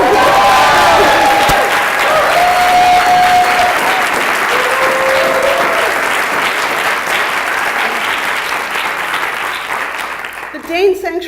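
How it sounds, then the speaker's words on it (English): Audience applause at a public announcement event, a full room clapping loudly and steadily for about ten seconds, thinning slightly toward the end before a brief voice cuts in. "Yes, you can applaud."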